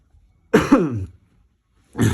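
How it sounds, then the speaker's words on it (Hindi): A person coughs twice close by, two harsh throaty bursts separated by a short pause. "खांसी आ रही है।"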